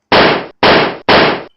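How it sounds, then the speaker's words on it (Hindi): Three loud, evenly spaced gunshots ring out as a comic sound effect, each a sharp burst followed by a fading tail. "विक्रम चौहान खुद ही उनसे बंदूक छीनता है और डोगा पर गोलियां चलाने लगता है।"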